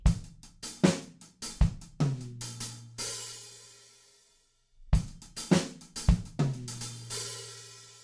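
Drum kit plays a short groove with punchy kicks and snare hits, a ringing tom fill, a brief near-silent gap, then the pattern resumes.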